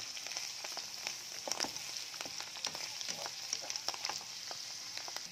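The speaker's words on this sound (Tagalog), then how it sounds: "lutuin natin maigi yung ating mushroom" Mushrooms cook in a pan with a steady, moderately quiet sizzle and frequent small pops and crackles, close and continuous, with no talking.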